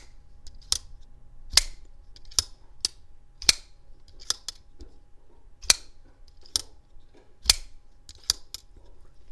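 An Orion Solaris folding knife snaps its blade open and shut about a dozen times at a steady, fidget-like pace, each crisp metallic click close and distinct over a quiet low hum.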